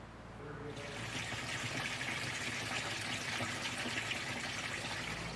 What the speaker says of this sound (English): then you can start filling your machine